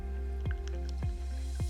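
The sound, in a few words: fish sauce being poured in for Thai cooking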